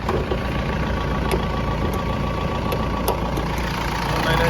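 A Mahindra Bolero SUV engine idles with a steady, low rumble, faint ticking clicks riding on top and no voices.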